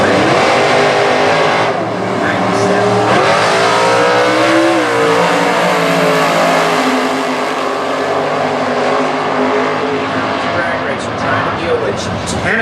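A 1967 Chevy Nova drag car in Super Gas racing at Indy launches down the strip, its engine roaring and revving loudly while an announcer talks over it through a PA.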